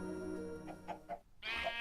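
Chickens in a video game cluck in a few short, quick calls, a brief series of clucks followed by a louder squawk over soft game music.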